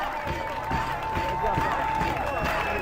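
A crowd at an urban fight show applauds and cheers for Mathilde, a dense, steady wash of clapping with a sustained tone running underneath throughout.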